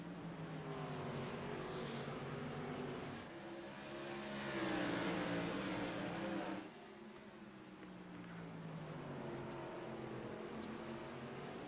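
Modified race cars roar around Concord in a racing video game, a steady dense engine drone from a tightly packed pack that swells louder mid-stretch as cars pass close, then settles back.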